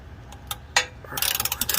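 Rapid ratcheting clicks from a wrench loosening the oil drain plug on a Ford F-150, starting with a few separate close ticks and turning into a quick, steady run of clicks.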